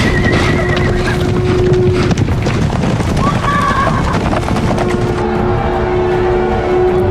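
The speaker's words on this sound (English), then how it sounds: "here is Saul on a horse, kind of riding through" Hooves clatter and a horse neighs loudly as soldiers ride in on horseback, a dense, steady rumble of riding with whinnies breaking through early on.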